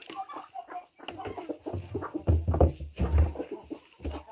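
Turkeys and a cat squabble on a farm, with bursts of clucking, gobbling and agitated fowl calls that grow louder and more intense midway, close by and without talk over them.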